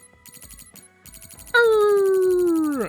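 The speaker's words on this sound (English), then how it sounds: "A dog going ham out there." A dog outside lets out a loud, sustained howl that slowly falls in pitch, heard over a quieter repeating electronic tone pattern.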